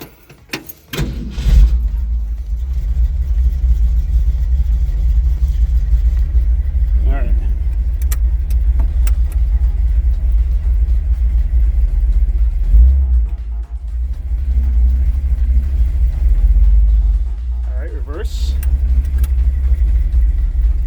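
A pickup truck with transmission trouble idles with a loud, steady low rumble, its engine briefly revving a few times while someone talks nearby, with clicks and clunks at the start.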